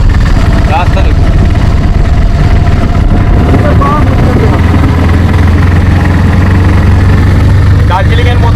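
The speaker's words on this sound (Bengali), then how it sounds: "আমাদের অটো আস্তে আস্তে এগিয়ে যাচ্ছে, উঠছে কিন্তু আস্তে আস্তে ওপর দিকে।" An auto rickshaw engine labours steadily as it climbs a winding hill road near Ghatshila, a continuous low droning hum with people talking over it.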